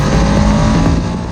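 A Ducati Panigale V2 motorcycle's engine roars loud and close as the throttle is twisted after a downshift, a thick, rasping exhaust note with mechanical valve noise, steady over a brief burst.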